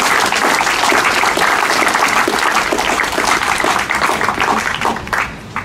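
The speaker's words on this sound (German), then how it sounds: "Jetzt dürft ihr gerne klatschen." Loud, full applause from a church congregation rolls on for several seconds and then thins out toward the end. Many hands clap at once, close and dense.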